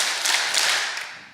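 A small audience claps together in a brief burst, several sharp close hand claps packed into just over a second with no talking.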